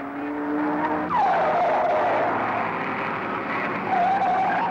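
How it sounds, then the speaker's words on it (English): Saloon cars, including Datsun Bluebirds and a Cortina, roar past at the 1966 Bathurst race circuit in a continuous loud wash of engine noise, with a rising then falling engine pitch as one passes close by. "Close behind the Cortina come the other 2 Datsun Bluebirds"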